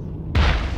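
A single booming in-game gunshot fired at an enemy while bounty hunting in a video game, one abrupt loud blast after a quiet moment, with a rumbling tail.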